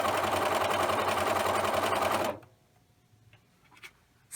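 Sewing machine stitching a stretched lettuce-edge hem on fabric: a steady, close whirring run for about two seconds, then it stops abruptly, leaving near silence with a few faint clicks.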